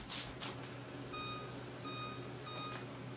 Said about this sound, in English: now set your timer again for 4 minutes